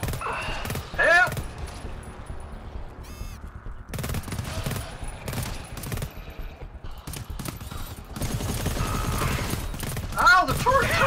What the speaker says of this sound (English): Ow, the turret shot me!